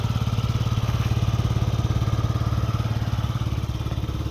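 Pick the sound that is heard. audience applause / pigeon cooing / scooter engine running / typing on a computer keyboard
scooter engine running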